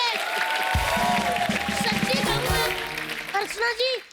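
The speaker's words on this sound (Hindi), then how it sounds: "जोरदार तालियां इनके लिए।" Studio audience applause on The Kapil Sharma Show, a dense wash of clapping mixed with music and voices that thins out toward the end.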